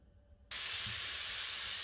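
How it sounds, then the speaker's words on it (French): Sliced onions hit hot olive oil over high heat, bursting into a loud, sudden hiss that holds as a steady, dense sizzle after a brief quiet start. "Et on va faire revenir nos oignons qu'on a émincés."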